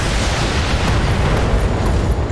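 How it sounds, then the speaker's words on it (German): Ammunition cooking off inside a battlemech in the Battletech game, a loud sustained explosive roar of dense low rumble filling the whole moment without pause. "Durch die Ammo-Explosion ist er komplett raus."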